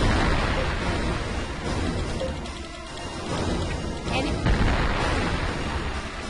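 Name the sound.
artillery fire from the video game Infinite Space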